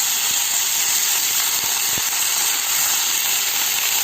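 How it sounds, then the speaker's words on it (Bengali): Eggplant and Malabar spinach seeds fry in a pan, giving a steady, even sizzle that stays constant throughout, with a few faint soft clicks beneath and no voices. "এরপরে কিন্তু ভাজা ভাজা করে নিলাম বেগুন আর পুঁই বিচুরি"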